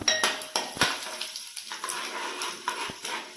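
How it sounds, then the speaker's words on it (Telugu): Cumin, urad dal and chana dal frying in hot oil for a beetroot curry, heard as close, repeated clinks and scrapes of a spoon against the pan over a light sizzle. "ఆయిల్ వేడైందండి జీరా మినపప్పు శనగపప్పు వేసుకొని కొద్దిగా వేయించుకుందాం"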